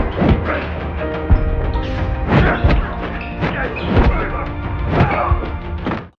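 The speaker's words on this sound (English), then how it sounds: "the man struck his waist, then landed a blow to the head" Heavy thuds and whacks of punches landing in a movie fight, several sharp blows spaced irregularly over a dense, loud background, with a strike to the waist and one to the head among them.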